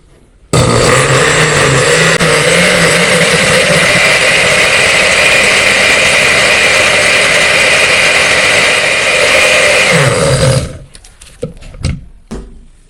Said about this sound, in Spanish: Vamos a agregarle la mitad del cartón, agregamos otro poco de agua y procedemos a licuar.